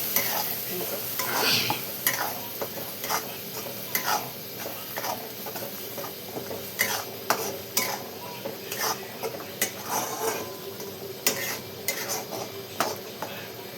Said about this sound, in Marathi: आपण सगळा मसाला टाकून घेणार आहे